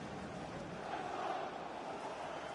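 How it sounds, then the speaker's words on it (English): A stadium crowd in the FIFA 21 football video game fills the air with a steady, faint roar of chanting and cheering fans, an even wash of massed voices with no individual sounds standing out. "The crowd are up for it."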